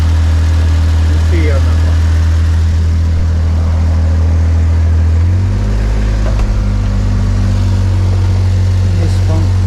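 A 1995 Mitsubishi Minicab 4x4 kei truck's three-cylinder engine idles loud and close with a low, steady throb that steps up in pitch partway through, while someone talks over it.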